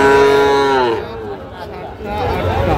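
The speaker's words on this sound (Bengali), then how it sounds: "আচ্ছা দেখি একটু গরুগুলো।" A Sahiwal bull at a busy cattle market gives one loud, close, drawn-out moo that slides downward, followed by faint crowd murmur and another low bovine call at the end.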